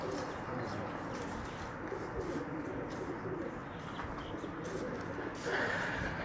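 Soft cooing of pigeons, faint and somewhat distant, over a low background hum with scattered rustles.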